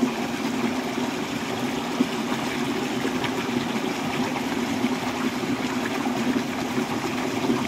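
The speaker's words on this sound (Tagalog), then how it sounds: "Maglakas yung tubig." Strongly flowing water rushes in a steady, dense roar close by, with no pauses, alone and without talk.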